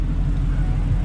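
A Camaro engine rumbles deep and steady at close range for about a second, a heavy, even low-end drone with no pause.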